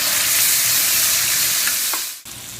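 Chicken liver searing in oil and butter, a loud, steady, close sizzle that holds for about two seconds, then cuts off sharply before resuming more quietly.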